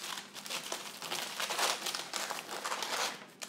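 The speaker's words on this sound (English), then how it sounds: "just wrap it in aluminum foil with some damp paper towel" Aluminum foil crinkling as it is wrapped around celery bottoms and damp paper towel, a close, continuous rustle with uneven bursts and no talk over it.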